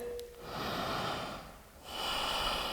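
Two long, deep breaths drawn and released slowly during a hip and hamstring yoga stretch, each a soft, airy swell close to the listener, with a short pause between them.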